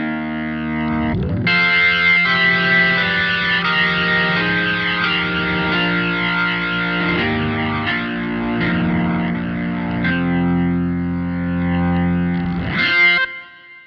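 A Korg SV2-88 digital piano plays through an overdriven AC30 amp model, sustained chords gritty and saturated with chorus-like shimmer, played loud and close for about twelve seconds before a final flourish and cutoff, without voices.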